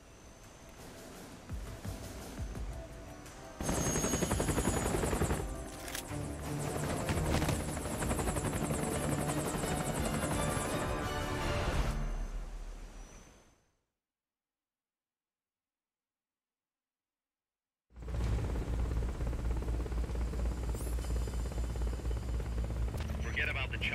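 Helicopter in the Metal Gear Solid Peace Walker video game, a loud, continuous rotor thrum with whining engine. It drops to silence partway through, then the rotor sound returns just as loud.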